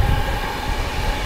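The 12337 Shantiniketan Express rolls along between Howrah and Bolpur, giving a brief, dense rumble of carriages in motion with no voices.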